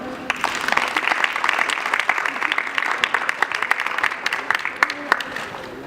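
A crowd at a basketball camp claps and cheers steadily for several seconds, with sharp individual claps standing out and voices mixed in.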